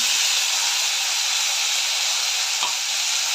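Chopped onion, garlic and tomato sautéing in a pan for a spinach dish, giving a steady, even sizzle throughout with a faint stir-like knock partway through, close and alone.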